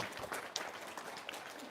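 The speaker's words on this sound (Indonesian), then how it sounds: "Tepuk tangan dulu dong." Brief, quiet applause from a small audience, a short patter of scattered hand claps lasting under two seconds, faint and somewhat distant.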